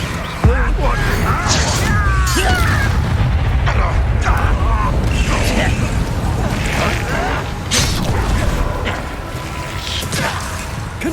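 Repeated fiery blast spells going off in Hogwarts Legacy, booming explosive hits and crackling impacts over a loud, busy game soundscape, with shouted voices among them.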